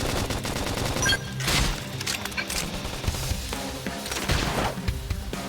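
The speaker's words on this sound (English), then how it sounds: "gunfire." Loud bursts of rapid gunfire and crashing impacts in the video game Xenoblade Chronicles X, rattling fire mixed with heavy booms and music-like tones.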